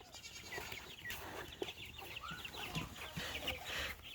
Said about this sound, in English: the layered chicks